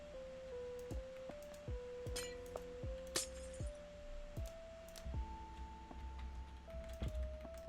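Glass blocks clinking as they are placed in Minecraft, a string of bright, evenly spaced clinks at moderate volume over a soft background tone.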